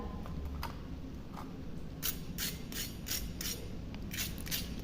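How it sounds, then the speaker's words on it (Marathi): Crisp, dry crunching bursts of fried fasting cutlets, several in quick succession over a low steady background, close and fairly loud with no talking. "किती क्रिस्पी याचा आवाज येतोय"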